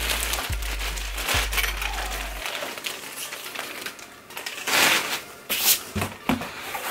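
A plastic bag from an embroidery supply kit is crinkled and rustled up close in bursts of crackling handling noise, with a low hum at the start and no voices.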